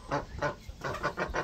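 Chickens cluck in short repeated bursts inside a coop bedded with sand or coffee grounds, a close, rhythmic series of soft calls with brief pauses between them.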